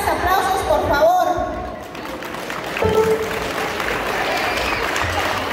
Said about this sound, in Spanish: Fuertes aplausos, por favor.